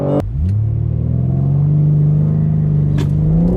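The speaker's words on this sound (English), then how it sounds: "Launch control. Oh man, it moves quick and it shifts good." BMW M3 xDrive launching hard under launch control, a loud close engine roar climbing steadily in pitch as it accelerates, with a brief shift break near the end.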